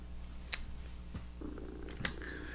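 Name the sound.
cat purring close to the microphone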